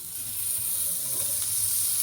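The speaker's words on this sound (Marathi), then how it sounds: "तो गरम झाला, त्यात टाकते मी बटर." Butter sizzles in a hot tawa pan for a crispy aloo sandwich: a steady, close, even frying hiss that holds for about two seconds with no voices.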